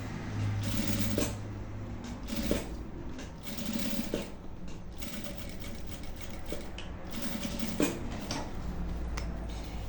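Sewing machine with a teflon presser foot stitching along a fabric edge while making a boxy zippered pouch, a steady close mechanical whirring with rhythmic ticking throughout.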